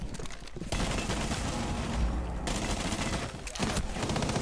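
Gunfire in Rainbow Six Siege, a sustained burst of automatic shots rattling through most of the moment, fairly loud and dense, with a short break and a final flurry.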